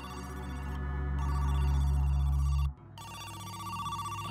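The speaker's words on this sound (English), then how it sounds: "is there a phone call?" An in-game telephone rings in the horror game Who's Lila?, a loud, steady electronic trill that sounds continuously, breaks off abruptly, then resumes at a quieter level.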